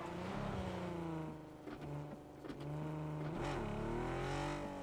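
A vehicle is driven across rough, rocky terrain in PUBG, its engine droning and shifting pitch as it revs up and eases off, fairly quiet and steady with no talking.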